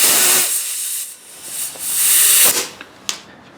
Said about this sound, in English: now I'm going to hold the valve stem here, then put some air in it.